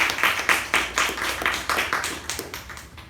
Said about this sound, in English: Let's give him a thunderous round of applause